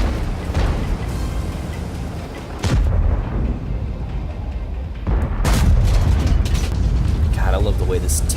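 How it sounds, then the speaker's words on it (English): A tank gun fires in World of Tanks, giving several loud, heavy booms with rumbling tails over engine and battle noise, while someone talks over the gameplay. "I like the way the gun sounds when it shoots."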